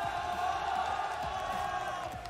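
Crowd at the Asia Championships 2019 esports event, Mousesports vs. ENCE, a dense, steady roar of cheering and whoops filling the space at a sustained loud level.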